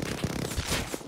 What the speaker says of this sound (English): Just keep shooting, boys